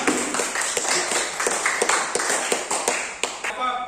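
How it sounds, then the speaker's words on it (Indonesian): A small classroom group claps for a presenting student team, giving a run of light, separate hand claps in a loose, uneven rhythm at close range. "Berikan aplaus untuk kelompok 2"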